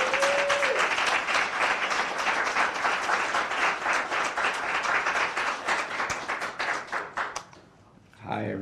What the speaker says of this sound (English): Please clap it up for him